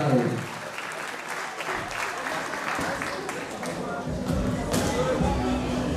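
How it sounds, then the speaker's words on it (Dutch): Applause from a fight night audience at a kickboxing event, continuous clapping with crowd noise under a loud announcer's voice throughout. "grote applaus voor de doelpunt"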